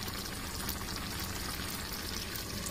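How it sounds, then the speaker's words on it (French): Pasta water starts to boil in a pot, giving a steady, soft, close bubbling hiss with no break, quiet and alone. "Alors, regardez, ça commence à bouillir"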